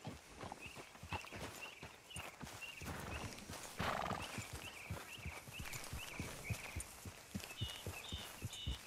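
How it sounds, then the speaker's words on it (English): Horse hooves clip-clop at a steady walking pace in Red Dead Redemption, each step distinct and close, with occasional whinnies and faint birdsong in the background. "Grab your horse and let's go."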